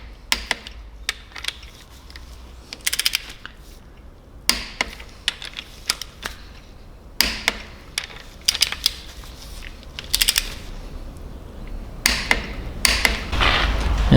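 Close, sharp ratcheting clicks of a torque wrench tightening BMW S54 engine bolts during timing chain work come in quick bursts separated by short pauses in a quiet workshop.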